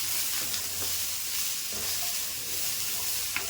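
Small onions, garlic, green chilies and curry leaves sauté in a pan for a cauliflower kulambu, giving a steady close sizzle with faint scrapes of stirring, no talk.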